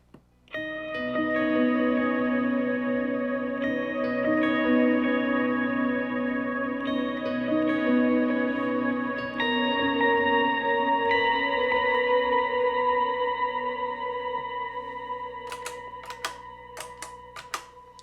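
An electric guitar plays an octave-doubled lead line from the worship song "Who Can Compare To You" through reverb and delay. Long ringing notes blend into one another, and a few sharp clicks come near the end as the tone fades.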